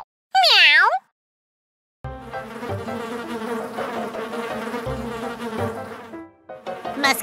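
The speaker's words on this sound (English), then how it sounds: "Meow." A cartoon cat lets out one bright, rising-and-falling meow, followed by a pause and then a dense, buzzing stretch of music.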